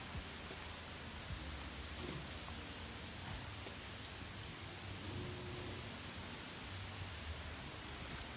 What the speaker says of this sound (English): I'm heading back home because it's raining.